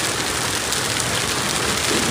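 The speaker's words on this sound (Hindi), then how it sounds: "देखिए इतना जोर का बारिश होने लगा" Heavy rain pours down in a dense, loud, continuous hiss of drops striking surfaces close by, with no pauses and no voices.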